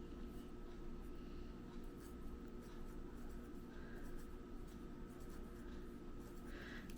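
Marker or chalk strokes on a classroom board while an angle lesson is written out, soft and continuous scratching at close range against a steady low room hum, with no talking over it.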